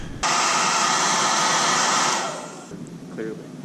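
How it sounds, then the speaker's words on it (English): A hair dryer switches on abruptly and blows with a loud, steady rushing hiss for about two seconds before winding down, followed by a brief faint voice. "I'll use the hairdryer again."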